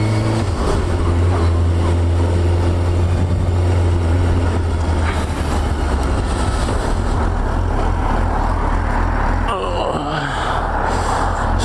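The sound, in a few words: Suzuki GSXR600 motorcycle riding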